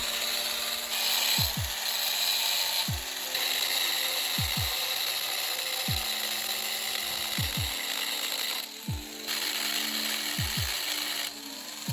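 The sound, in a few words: cutting rusty truck bed brackets off the frame rail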